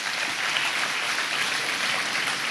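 Loud, sustained applause from a large audience at a live rostrum club talk in India, an even, continuous roar of clapping with no gaps and no speech.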